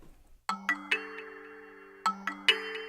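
The Puffle Bells preset on an 88-key digital piano plays two bright three-note chime phrases, each strike ringing out with a sustained bell-like tone, close and clean with no voices.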